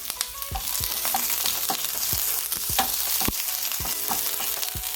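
Onions fry in a pan for noodles and wontons, a steady close sizzle broken by repeated scraping stirs throughout.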